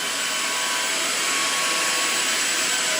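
Xiaomi Jimmy H8 Pro stick vacuum cleaner runs on a hard floor, a steady, loud, high-pitched whirring hiss that holds constant throughout without pauses.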